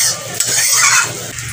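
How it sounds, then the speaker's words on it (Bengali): Eggs frying in a pan for breakfast, heard up close as a loud, busy sizzle with a brief scrape of stirring near the start, fading slightly toward the end. "দেখো ডিম ভাজছি, গরম গরম ব্রেকফাস্ট হবে।"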